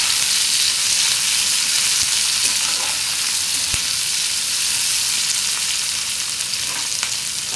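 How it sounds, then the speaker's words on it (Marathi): Thickly cut tomatoes sautéing in hot oil give a steady, loud, close sizzle with a few faint clicks of stirring, and no voices are heard. "टोमॅटो तेलात परतून घेऊया।"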